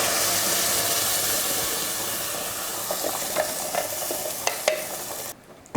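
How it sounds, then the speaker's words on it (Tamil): Ground tomato poured into masala frying in a pan for tomato rice gives a loud, broad sizzle and hiss that gradually eases, with scattered stirring clicks and scrapes before it cuts off. "இதில் நம்ம அரைச்ச தக்காளியை இதில் சேர்த்துடலாம்."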